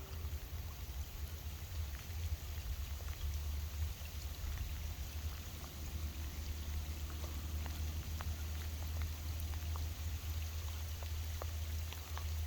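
Rain falls on a mangrove river during ultralight fishing, a soft, steady patter with scattered drip ticks over a low continuous rumble, faint and even from start to finish.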